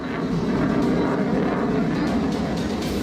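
A Dassault Rafale fighter jet of the Indian Air Force roars steadily at a distance, a constant broadband engine rumble with no break or talk.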